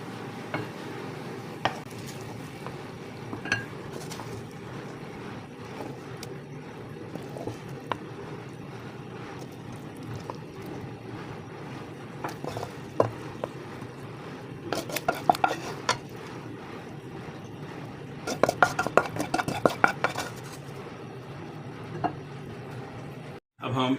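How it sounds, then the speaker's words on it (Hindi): Egg gravy (anda masala curry) being served out of a cooking pan with a spoon, giving light scattered scrapes and clinks of metal against the pan, with a brief cluster of louder clatters near the end over a steady low background. "अब हम इसे डिश आउट करेंगे।"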